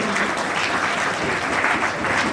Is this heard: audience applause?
yes